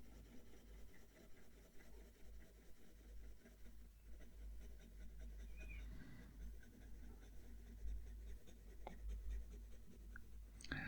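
A stiff Leonardo Momento fountain pen nib scratches across textured paper in soft, continuous strokes close to the mic, faint and papery over a low background rumble.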